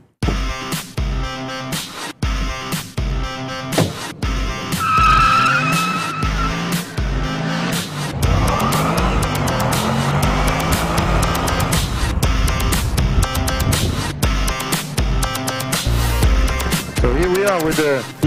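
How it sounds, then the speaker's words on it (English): A Mercedes-Benz McLaren SLR Stirling Moss driven hard on a track, its engine roaring and tires squealing in long skids, with sharp gear-change breaks early on and a sustained loud howl and scrub through most of the run. "With the new SLR Stirling motor."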